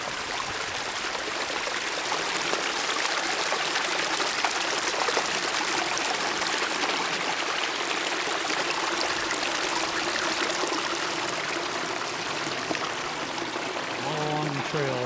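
Water flowing out of the ground and running back onto a woodland trail near the Rhode Island–Connecticut line, a steady close trickling stream that stays even throughout with no other sounds.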